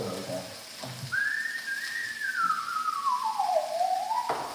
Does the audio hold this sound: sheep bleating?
no